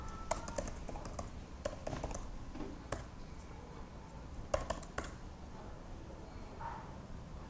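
Keys clatter on a computer keyboard in short, irregular bursts of clicks, close and fairly quiet, with pauses between clusters and no talking.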